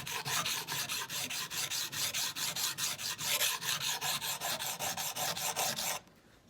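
A knife tip is drawn across the coarse side of a sharpening stone in quick, regular rasping strokes, about three per second, close and bright, continuing steadily before stopping abruptly.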